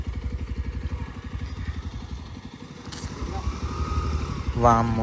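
A motorcycle engine chugs with a steady low throb up close at a waterfall, and a person gives a short exclamation near the end.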